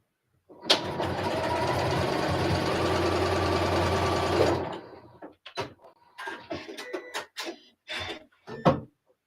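A sewing machine runs steadily for about four seconds, stitching the short sides of fabric together, close and fairly loud, then stops; scattered handling sounds and brief bursts of activity follow.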